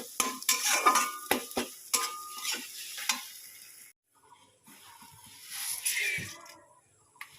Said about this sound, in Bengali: লবণ দিলাম সামান্য তেল দিয়ে তারপরে ভেজে নিচ্ছি ডিমটাকে